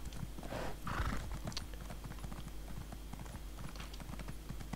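Horse hooves clip-clop steadily on the ground in the video game The Elder Scrolls Online, a rhythmic close-up trot with a brief whinny near the start, heard alone without talk.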